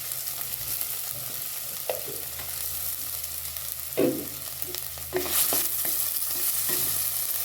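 Crushed ginger-garlic paste frying in a pan for a small fish curry, a continuous close sizzle with scraping stirs and a few spoon knocks, no voices.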